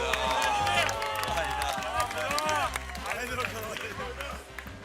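Audience applause and cheering as a performer comes on stage at a talent show, dense clapping from a crowd under loud music with a pulsing beat, with voices shouting over it.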